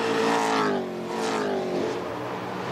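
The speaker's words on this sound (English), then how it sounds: "You see there, a couple of cars just stepping out of the hairpin." V8 touring cars race out of a hairpin at Pukekohe on cold tyres, engines roaring loudly and revving up through the gears as a couple of cars accelerate past, with a falling engine note and a brief scrub of tyres.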